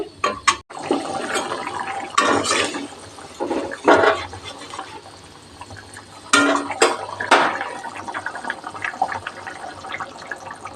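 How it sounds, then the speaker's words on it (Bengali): A matar paneer curry is stirred in a pan, with irregular clinks and scrapes of a utensil against metal over a bubbling, watery background. Several louder knocks and clatters stand out, and no one talks. "মিক্স করে দিচ্ছি বয়ল আসতে দেবো"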